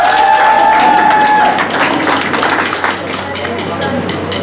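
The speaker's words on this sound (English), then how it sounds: "So one big clap for them," Steady applause from a crowd at a college freshers' day event, a continuous wash of clapping mixed with murmuring voices, with a brief tone ringing at the start.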